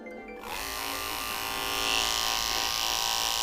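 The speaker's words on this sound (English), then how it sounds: "these were a bigger clipper than what we used last time" Large electric dog grooming clippers switch on and run close by with a steady, high-pitched buzzing drone while a six-month-old Cavoodle puppy gets her haircut.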